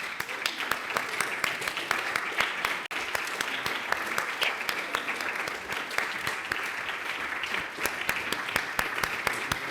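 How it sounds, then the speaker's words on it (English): A conference audience at a nature-based solutions closing session gives steady, dense applause for the organizing team, continuous and loud throughout. "we can give them all a big clap too"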